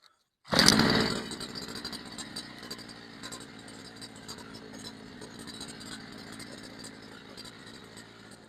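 A small two-stroke petrol brush cutter engine sputters to life with a loud burst, then settles into a steady, buzzing idle that runs on without pause.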